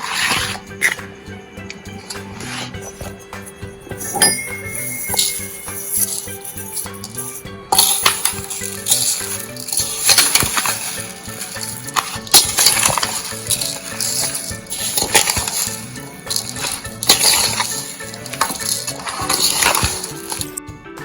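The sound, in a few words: mixing spiced lemon pickle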